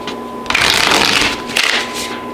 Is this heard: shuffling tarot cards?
yes